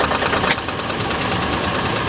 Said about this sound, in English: It sounds like the flywheel